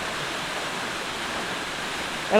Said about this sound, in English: the water, it's not just constantly doing the same thing. It's like splashing down in different patterns